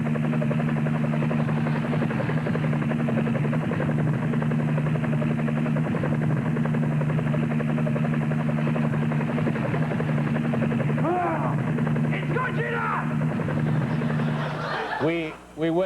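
A steady low helicopter drone with beating rotor hum runs throughout, with some higher chirping and squealing sounds near the end.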